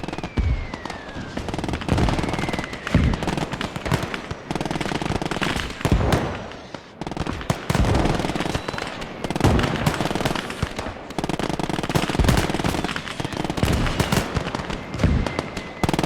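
Dense bursts of machine gun fire crackle in a WWII battle video game, sustained rattling volleys and scattered gunshots layered into near-continuous loud combat noise, with no voices.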